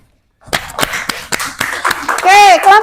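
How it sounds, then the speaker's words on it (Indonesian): Children in a third-grade primary school science class clap after a group presentation, sharp close claps spaced unevenly after a brief silence, then young voices chatter and call out loudly over the end. "Bisa tepuk tangan?"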